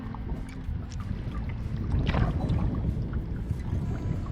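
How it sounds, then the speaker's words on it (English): Wind rushes and gusts around a solo canoe in a narrow lake channel, a rough low-frequency roar mixed with faint water sloshing against the hull, swelling slightly midway. "Wind has picked up."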